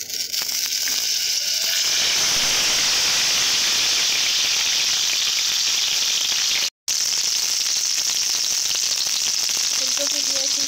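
Cauliflower florets sizzle steadily in a very hot pan with a little salt, a loud, constant dense frying hiss that cuts out for a split second before resuming, with faint stirring underneath.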